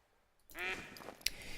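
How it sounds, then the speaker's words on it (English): In a duck-hunting scene from a video game, several mallard ducks quack in a short raspy burst at moderate distance. A sharp click follows over soft outdoor ambience. "see those ducks there"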